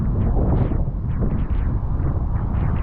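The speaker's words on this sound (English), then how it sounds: "That wind's picking up now." Steady wind buffeting the microphone beside the River Ribble during feeder fishing, a constant low rumbling roar with gusty swells, loud and continuous throughout with no voices.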